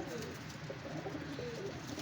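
Pigeons at a pigeon show coo close by in low, rolling bursts over a constant background hiss, with no talking.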